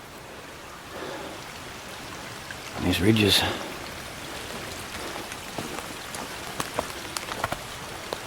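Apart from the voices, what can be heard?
rain in the forest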